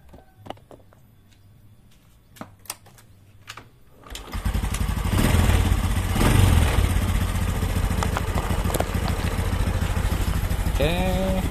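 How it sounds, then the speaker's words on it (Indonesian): A Honda Supra X 125 motorcycle with a carburetor goes from a few clicks and clanks to a cranking start, then settles into a loud, steady, close idle with a rapid even putter. A brief voice is heard near the end. "kita coba nyala atau enggak motornya"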